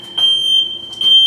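Smoke detectors sounding in a house, a loud piercing electronic alarm tone held nearly continuously with short pulsed bursts, close and alone.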